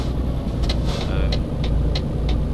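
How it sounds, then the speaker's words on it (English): In Euro Truck Simulator 2, a truck's turn indicator ticks loud and quick, about five evenly spaced clicks over a steady engine drone. "got these, as my daughter says, ticky-tockers. They're a bit loud and quick."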